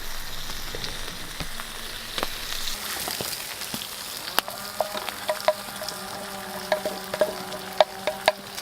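Bacon and eggs fry over an outdoor campfire with a steady close sizzle and crackle, punctuated by sharp pops and ticks that grow more frequent toward the end.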